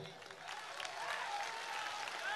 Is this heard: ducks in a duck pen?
no